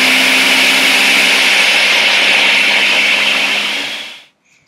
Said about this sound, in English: So we'll put it in the blender there.